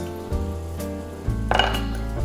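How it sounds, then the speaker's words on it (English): About a tablespoon of butter drops into a hot pan and sizzles, with a few metallic clinks of a utensil against the pan and a steady frying hiss that grows louder near the end. "So we're gonna add a little bit of butter and then some onions to our pan."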